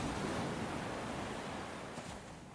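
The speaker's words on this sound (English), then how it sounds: "As you climb the lift hill, you will hear waves crashing" Steady ocean surf rolling and crashing from the onboard audio track played while climbing the lift hill of Cedar Point's Siren's Curse tilt coaster, a continuous broadband wash that eases slightly toward the end.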